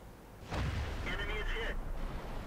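A T30 tank destroyer's gun fires once in World of Tanks, a heavy booming blast with a rumbling tail followed by brief metallic ringing, with a faint voice in the background.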